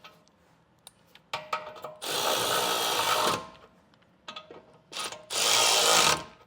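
Two bursts of a power impact tool or driver tightening 3/4 inch bolts on a B&W Patriot fifth wheel trailer hitch with slider, each lasting over a second, separated by clicks and handling clatter.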